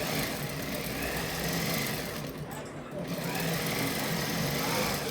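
A sewing machine stitches a shirt collar in a continuous loud whir, the steady motor hum dipping briefly midway before running on.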